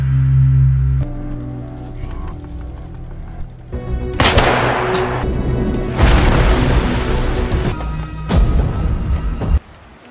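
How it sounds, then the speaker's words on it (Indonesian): A pistol shot in a movie scene by a river, set within a loud, dense action soundtrack with booming impacts and crackling bursts that swell for several seconds before cutting off abruptly. "ketika Kim masih menodongkan pistolnya, Suan tiba-tiba saja mengangkat pistol dan menenggak Kim hingga jatuh ke dalam sungai"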